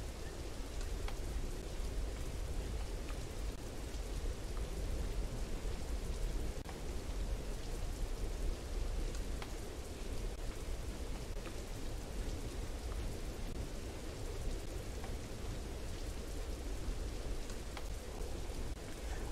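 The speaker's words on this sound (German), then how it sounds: "Ach, es regnet wieder. In Hanwell regnet's andauernd." Steady, dense rain hisses throughout a wet town in the horror game Welcome to Hanwell, with distant thunder rumbling low beneath the constant downpour.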